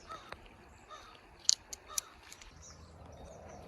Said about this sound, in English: there's a bunch of crows out there